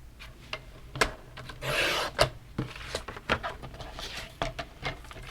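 Card stock is cut to size for card making, heard as a series of dry scraping and rubbing strokes with short sharp clicks and one longer rasping pass, close and moderately quiet.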